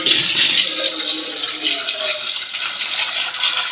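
Water runs steadily and loudly, a continuous splashing rush like a tap or flush pouring close by, with no voices.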